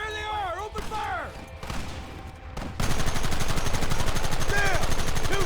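Gunfire in a shootout in the western video game Red Dead Redemption, a dense, continuous stream of rapid shots with game voices shouting over the first half before the shooting takes over loudly.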